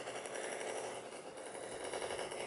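Rapid gunfire from a shooter video game played on an iPad rattles on continuously for a couple of seconds, dense and steady, with no talking.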